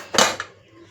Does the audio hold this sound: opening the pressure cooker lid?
yes